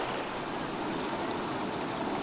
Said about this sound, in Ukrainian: Ось ріка, яка спадає з гори середня.